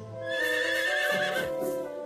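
A horse neighs in the farming game Doraemon Story of Seasons, a single loud, close whinny lasting about two seconds with a rising then trailing cry.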